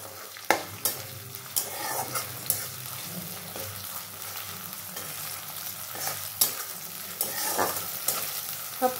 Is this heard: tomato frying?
yes